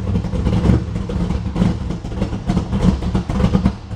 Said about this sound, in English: Listen to that motor.